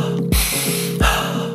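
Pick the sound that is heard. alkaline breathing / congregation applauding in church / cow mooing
alkaline breathing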